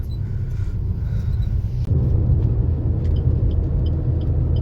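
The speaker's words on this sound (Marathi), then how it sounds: "हे सगळे ट्रॅफिक ते गेटी लागून आतां" Road traffic passes near a jetty in Goa as a steady, loud low rumble of vehicles, swelling slightly midway, with faint higher clanks and no talk.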